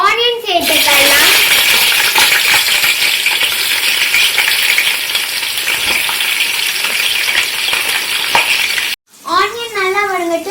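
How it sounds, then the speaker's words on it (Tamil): Onions frying in ghee for a wedding-style mutton biryani give a loud, steady sizzle throughout, with brief stirring clatter and a short pause near the end. "ஆனியன் நல்லா வதங்கட்டும்"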